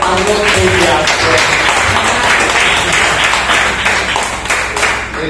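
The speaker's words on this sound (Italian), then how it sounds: "Volevo proprio sollecitare il nostro applauso" An audience at a book presentation gives loud, sustained applause, dense clapping that thins slightly toward the end, with voices underneath.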